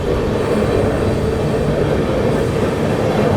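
A 22361 Patna Amrit Bharat Express rolls slowly near the Yamuna river on a heavy-rain journey, heard from inside as a steady, loud, continuous low rumble of wheels and carriage with no talking.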